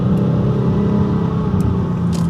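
A four-door car's engine rumbles and revs at close range, a sustained throaty drone that swells slightly, heard alone without talk.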